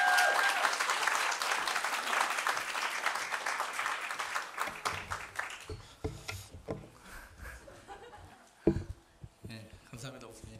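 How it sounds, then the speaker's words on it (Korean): A church congregation applauds to welcome a speaker to the Sunday pulpit, a dense burst of clapping that fades after about five seconds into scattered claps, shuffling and room noise. "우리 박수로"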